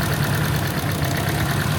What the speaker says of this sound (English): diagnosing this misfire here, you can see you get a change in note in the engine between all of these cylinders